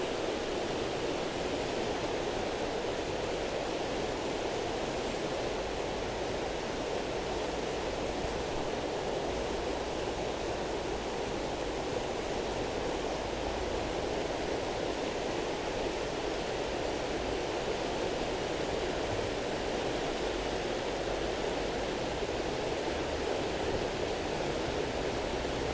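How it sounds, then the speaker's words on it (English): Flowing water rushes continuously outdoors on a morning walk, a dense, even hiss holding a steady level from start to finish with no voices. "You like the sound of the water?"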